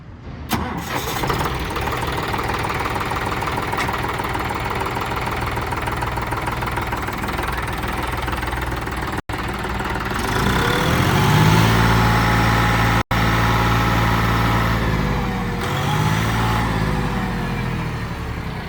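A 5210 tractor with only about 408 hours of use, in showroom condition, cranks and starts, then settles into a loud, steady diesel idle with a deep rumbling throb that swells slightly before evening out.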